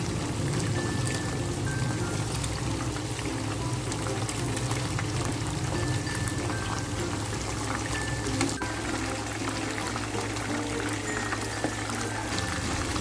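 Chicken frying slowly in oil over low heat, a steady dense bubbling crackle that holds at an even level throughout, with no voices.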